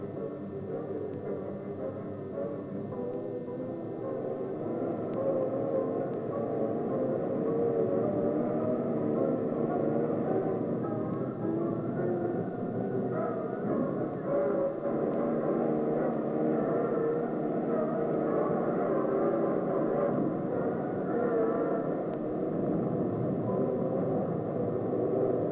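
A steady mechanical drone with a low throbbing hum continues throughout, like Cold War-era cargo helicopters flying at some distance, with no voices.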